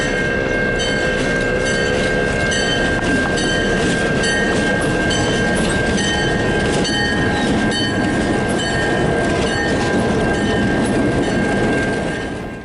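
A loaned BNSF GP locomotive leading a train on yard jobs in London, Canada rolls past on the rails, with steady loud rumbling, rhythmic wheel clicks and a sustained high squeal, close throughout.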